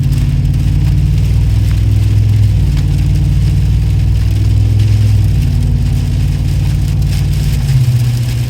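A GM 6.6L engine with the muffler deleted drives through rain, its loud, steady low exhaust drone rising and falling as the throttle is applied, close and continuous without any talk.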